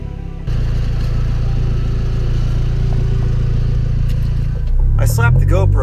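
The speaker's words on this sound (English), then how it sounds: "No sound deadening left in the car, so it's loud in here." A loud, steady engine rumble fills the interior of a turbocharged Honda Civic EG with no sound deadening while driving, holding an even pitch before a voice speaks over it at the end.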